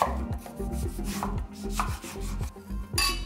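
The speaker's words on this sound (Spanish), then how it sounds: "Vamos a cortar la cebolla, los jitomates" A knife chops onion and tomatoes on a board in a home kitchen, making a run of fairly regular dull thuds under steady background music.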